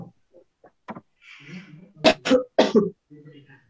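A few short, harsh coughs in quick succession, close by, from a presenter during a training lecture, after some quiet, scattered vocal sounds.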